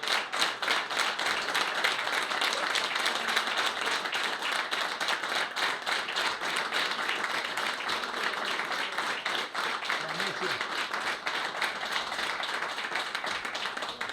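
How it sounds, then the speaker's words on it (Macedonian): Sustained applause from a large crowd at a football veterans' gathering in Tetovo, dense overlapping claps at an even loudness throughout, with no pause. "аплаузот нека потрае подолго"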